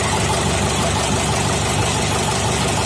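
A tractor engine idles loudly and close by, a continuous low rumbling chug with steady knocking rhythm and no voices.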